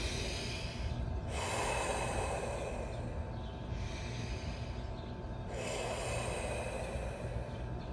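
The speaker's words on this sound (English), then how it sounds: "So take a few deep breaths." Deep, slow breaths during guided meditation: three long airy inhale-exhale cycles, close and soft, with no talking.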